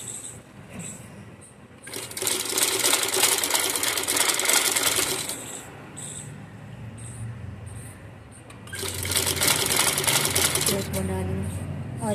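A sewing machine stitches a child's pajamas in two long bursts of fast, steady mechanical chatter, close by. Quieter clicking and handling fill the pauses between, and people talk throughout.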